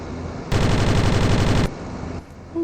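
A single rapid burst of automatic gunfire in a video game, loud and close, lasting about a second before giving way to quieter game ambience.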